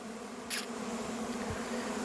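A honey bee buzzes briefly and close at an apiary hive, its quick whine standing out over a faint, steady background hum.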